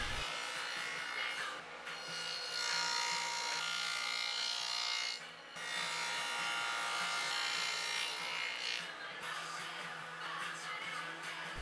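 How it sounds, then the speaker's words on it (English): A table saw fitted with a sacrificial fence cuts rabbets along wooden side pieces, giving a loud, steady broadband whine that runs almost throughout with one brief dip midway, no talking. "I install my sacrificial fence and cut the rabbets on all 4 sides of each side"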